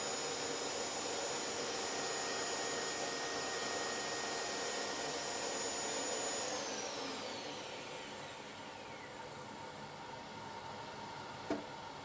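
A Delta 10-inch table saw spins with a steady broadband whir as the blade is raised up through a zero-clearance insert plate; the tone shifts and eases partway through, with a brief knock near the end.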